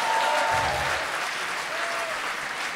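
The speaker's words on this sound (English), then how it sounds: "Give this man a round of applause." Comedy show audience at Mandela Hall breaks into a round of applause, dense clapping that holds steady and fills the room for the full stretch.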